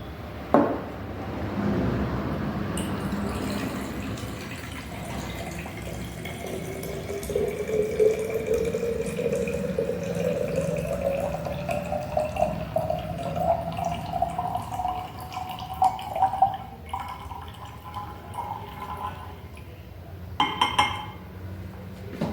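Water pours into a 250 ml glass flask during a chemistry titration practical, a steady trickle whose pitch rises gradually as the flask fills, with occasional glassy clinks and no talking.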